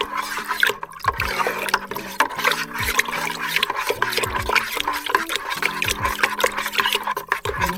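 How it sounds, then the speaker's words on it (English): Homemade wine must is stirred in a container, a close, continuous sloshing and swirling of liquid with rubbing strokes and occasional knocks against the vessel. "Give her a quick stir."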